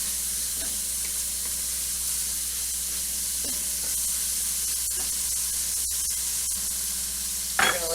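Garlic and a pinch of pepper flakes sizzle steadily in a pan, a constant soft hiss with a few light clicks and a brief louder sputter near the end, with no talking.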